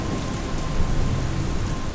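Heavy rain pours down in a dense, steady roar with a low rumble of thunder beneath, loud and continuous with no voices.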